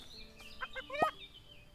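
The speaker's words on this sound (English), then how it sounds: "There's a geese right there." Geese in the farming video game Everdream Valley give short honks, a few quick calls building to one louder honk, set against quiet game ambience.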